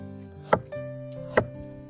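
A knife cuts through a large winter radish with the skin on, slicing it on a cutting board in two crisp, separate chops over a faint steady background tone.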